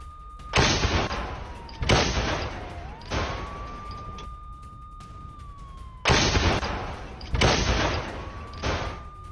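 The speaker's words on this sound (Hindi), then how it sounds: "यूक्रेन ने रूसी ठिकानों पर टैंक के जरिए गोले दागे हैं।" Tanks firing shells in the Russia-Ukraine war: five heavy, booming blasts spaced a second or more apart, each with a rumbling decay, under a steady wavering tone, loud and close.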